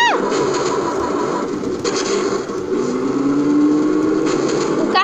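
Continuous engine drone of a car in the Wario Land flash game, with a rising whine and scraping noises layered over a steady loud rumble.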